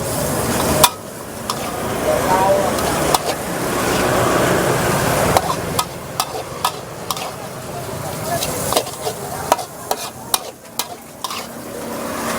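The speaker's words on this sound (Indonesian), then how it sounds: "Diaduk lagi." A spatula stirs lumpia basah filling frying in a pan at a Jakarta street stall, giving a steady sizzle with scraping and clinks of metal throughout and traffic noise from the street in the background.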